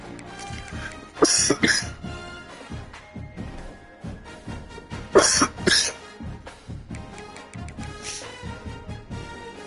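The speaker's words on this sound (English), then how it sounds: "Excuse my coughing, man." A person with a cold coughs in two harsh bursts, a few seconds apart, close up, with a softer throat noise afterward.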